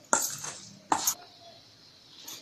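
Okra is mixed by hand with rice flour, besan and spices in a bowl, heard as two distinct clattering knocks of a spoon or bowl followed by quieter shuffling.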